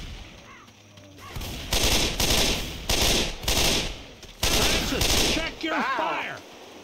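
Gunfire in Left 4 Dead comes in four or five loud, sharp bursts of rapid automatic fire, each about a second long with brief pauses between, as players talk in the gaps.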